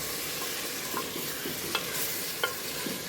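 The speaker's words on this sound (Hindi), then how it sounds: "अब इसमें हम ऐड करने लगे हैं गोश्त। अब इसको थोड़ा सा भूनेंगे" Meat pieces sizzle and fry in a hot pan for a cauliflower meat curry, a continuous close hiss broken by a few soft scrapes and knocks of stirring.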